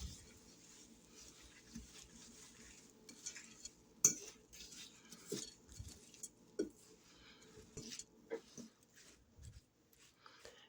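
Rolled oats being stirred in a bowl for no-bake granola bars, heard as faint, close, irregular scrapes and light clinks of a spoon, with a sharper knock now and then, over a quiet background.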